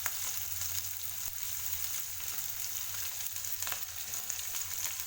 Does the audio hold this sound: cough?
no